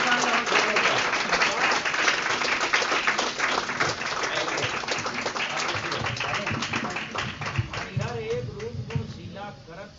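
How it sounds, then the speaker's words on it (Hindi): Sustained audience applause fills a convention hall during an inaugural ceremony, dense and steady clapping throughout that thins slightly toward the end, with voices audible beneath it. "साथियों तालियों में कमी नहीं रहनी चाहिए।"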